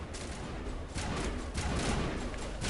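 Dense, sustained bursts of sci-fi gunfire from a Mass Effect firefight, continuous and loud throughout with rolling surges and no clear pauses between shots.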